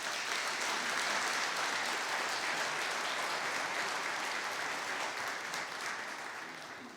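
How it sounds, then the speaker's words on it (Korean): Steady, dense applause fills a conference hall as an audience welcomes the Korean prime minister to the podium at a policy report forum, holding loud throughout and tapering slightly at the end. "박수로 맞아 주십시오."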